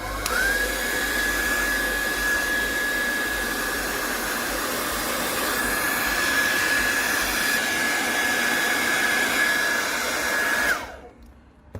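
A heat gun or hot-air blower runs continuously on a damaged Xiaomi 9T Pro phone screen, a loud steady whooshing roar with a constant whine, cutting off abruptly near the end.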